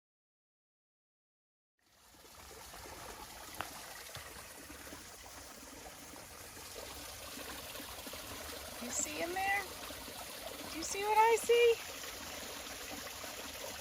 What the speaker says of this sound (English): Whatever this river is next to the Virginia Creeper Trail is amazing.